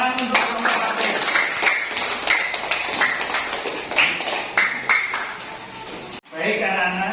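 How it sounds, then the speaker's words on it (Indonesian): Classroom applause for a student group after a science activity, a dense run of many small hands clapping rapidly and close by, with voices mixed in, stopping abruptly near the end before talk resumes. "Tepuk tangan untuk kelompok 1."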